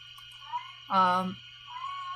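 A pet cat meows once in the background, a loud drawn-out harmonic cry of about half a second, set against a steady low hum and faint rattling sounds.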